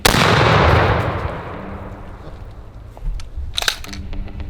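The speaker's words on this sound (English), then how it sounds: "I'm gonna shoot the bottom of it." A Blackwater Sentry 12 shotgun fires a single loud shot outdoors at a target, the sharp blast rolling off into a long decaying boom, followed by metallic clicks and handling noises.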